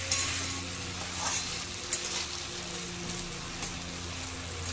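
Vegetables with chilli and cumin sautéing in a pan on medium heat for a vegetarian dish, a continuous crackling sizzle with occasional stirring scrapes, steady and close, with a low hum underneath and no talking.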